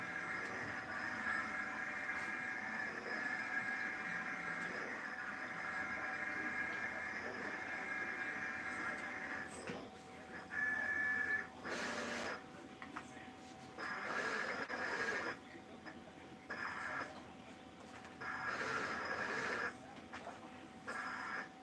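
A Roland BN-20 printer runs while printing Made in USA stickers, a steady mechanical whir and hum with shifting carriage passes, fairly quiet and continuous, with brief louder bursts in the second half.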